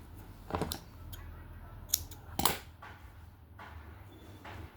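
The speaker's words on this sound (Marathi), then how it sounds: "आता आपण हा देठ, हा दोरा कापून घेऊया." Scissors snip through thread while a hibiscus-flower garland stem is being made, giving a few quick, close cuts spread over a quiet background.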